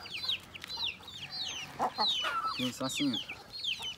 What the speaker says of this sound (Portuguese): Tô aí agarra a galinhazinha aqui, ó.